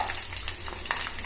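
Peanuts fry in a pan of plain oil for a tempering, a soft, steady sizzle with scattered crackles and pops close by, fairly quiet and without talk.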